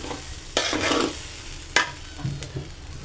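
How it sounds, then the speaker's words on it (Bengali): Rice for pulao frying in a pot with ground nuts and garam masala, a spoon scraping and stirring in a few distinct strokes over a soft, steady sizzle, close and fairly quiet. "এই যে চালটা ভাজা ভাজা হচ্ছে"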